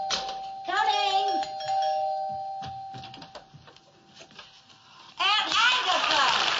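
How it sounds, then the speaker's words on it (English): A doorbell rings with sustained tones at the door in a classic sitcom home, followed by a person talking, then a burst of louder voices or studio audience sound near the end. "Yeah, the doorbell. Someone at the door."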